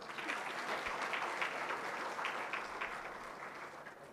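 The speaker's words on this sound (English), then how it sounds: "please applaud for yourself also" An audience at an orientation ceremony claps together in a dense, sustained round of applause that fades slightly toward the end, heard from a moderate distance.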